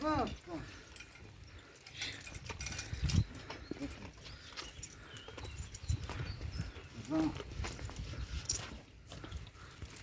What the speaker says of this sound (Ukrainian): Кобили спокійні, даються запрягати.